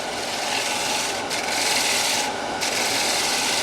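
Continuous broadband scraping hiss of a lathe tool's blade shear-scraping the foot of a spinning wooden bowl, steady and close with two brief pauses, no voices.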